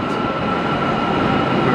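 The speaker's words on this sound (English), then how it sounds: "First intercity train I'm seeing." A passenger train in Turkey rolls past as a steady, loud rumble of wheels and carriages that holds evenly throughout, with no clear clatter or squeal standing out.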